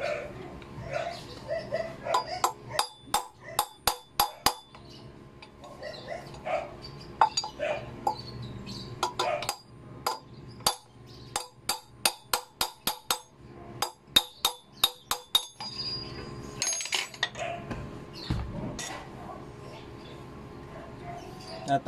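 Hammer blows drive out the front hub bearing of a Honda Click scooter, sharp metallic strikes in quick bursts with short pauses, close and loud. Someone speaks now and then between the rounds of hammering.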